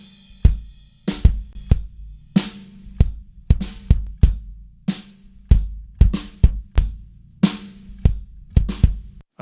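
Kick drum hits run through a UAD Zener compressor with a fast release, each thump punchy with a short, clamped tail, repeating in an uneven groove of roughly two beats per second, loud and alone.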